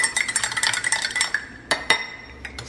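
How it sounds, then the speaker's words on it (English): A spoon clinks and scrapes as a mixture is stirred in a bowl. The rapid clatter is close, then slows to a few separate knocks. "Stir that up."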